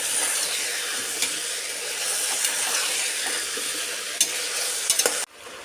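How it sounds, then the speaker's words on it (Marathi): Cauliflower, green beans and potato being stirred in a hot pan, a steady sizzle with scraping spoon strokes and a few sharper clinks, ending abruptly. "फ्लावर फरसबी आणि हा बटाटा आणि हे छानपैकी एकत्र करून घेतो"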